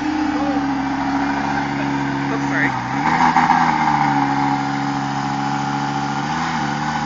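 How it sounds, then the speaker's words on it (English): A car engine idling steadily and close, with a brief rise in revs partway through before settling back to a low hum; a voice talks over it. "Andre, rev it up, rev it up"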